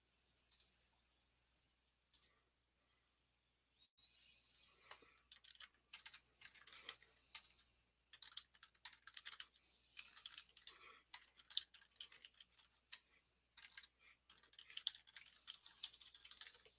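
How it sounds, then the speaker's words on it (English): Typing on a computer keyboard, with bursts of quiet, close key clicks in irregular runs separated by short pauses, no talking. "typing is not easy tonight"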